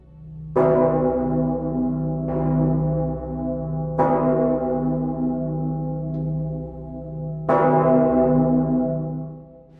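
A huge cathedral bell tolls three heavy strikes, each clang opening onto a long, rich ringing hum that overlaps the next strike and fades slowly.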